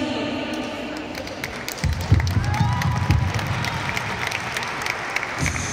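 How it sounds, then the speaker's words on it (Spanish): Crowd applause and cheering at a youth fitness sports tournament in Colombia, swelling after a quiet start into sustained clapping with some shouts, moderately loud and steady to the end. "Que se escuche ese aplauso, por favor, de nuevo"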